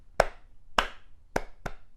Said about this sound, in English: we're just clapping out that name